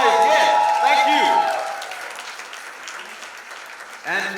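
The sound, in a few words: audience applause and cheering at trailer launch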